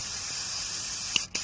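Lubricant sprays onto the rear suspension height sensor of a Land Rover Discovery 3 in a steady, hissing jet, ending with a couple of short clicks as the spray stops.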